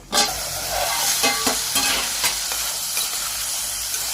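Chopped tomatoes cooking in a pan for a cluster beans coconut curry, a loud close sizzle and frying hiss with spoon stirring scrapes, heard alone without talking.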